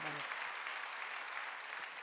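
A church congregation claps during a Korean sermon, a dense, even spread of applause that fills the short stretch at low level after a brief voice at the start.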